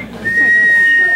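Sharp, loud sustained whistling from an audience at a Hindi poetry gathering (kavi sammelan) carries over crowd noise and fills the short moment.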